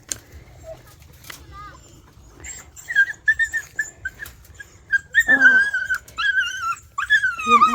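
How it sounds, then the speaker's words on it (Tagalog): A dog whimpers and whines in thin, wavering high cries, repeated in short bursts that grow louder near the end, with people talking in the background outdoors on a hot day. "Yung aso, kawawa naman yung aso."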